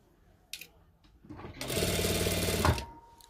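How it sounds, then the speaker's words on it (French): A sewing machine stitches a seam on a khimar with a 1 cm seam allowance, starting after a few faint bumps, then running loud and steady for about a second and a half before stopping, with no one talking over it. "Prenez votre repère de 1 cm de marge de couture et vous cousez jusqu'à l'autre extrémité au niveau de la tête."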